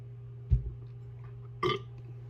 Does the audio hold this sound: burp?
yes